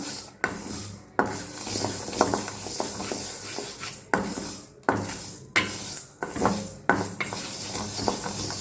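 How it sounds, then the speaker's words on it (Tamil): Sago pearls roasting in a pan over a medium flame give a steady dry scraping and rustling as they are stirred, broken by brief pauses; close and fairly loud, with no voices. "மீடியம் ஃப்ளேம்லேயே வச்சு வறுத்துக்கோங்க"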